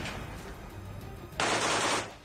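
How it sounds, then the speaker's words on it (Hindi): Machine gun fire from a Russian soldier inside a room at a steel plant, heard in war news footage: a muffled burst is followed by a loud, sustained crackling volley of rapid shots lasting about half a second. "वहां एक कमरे में छिपे रूस के सैनिक ने सामने से हो रही फायरिंग का जवाब देने के लिए ताबड़तोड़ गोलियां चला दी।"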